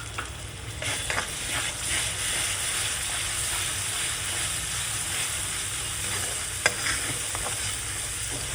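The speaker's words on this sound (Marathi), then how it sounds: "आता याच्यामध्ये ही प्युरी टाकायची आहे आपण." Masala fries in a pan over low heat as puree is stirred in, making a continuous close sizzle with scraping stirs and an occasional sharp clink of the spoon.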